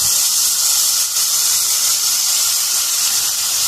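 Ginger garlic paste hits hot oil in a pan for chana masala, giving a loud, continuous broad hiss and sizzle that holds steady without a break and plays alone.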